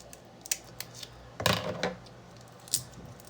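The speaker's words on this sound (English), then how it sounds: "I'm just going to take a pair of scissors. I'm going to cut right up the back." A few crisp snipping sounds, irregular and close, like scissors cutting through a shrimp shell, with light clicks in a quiet room.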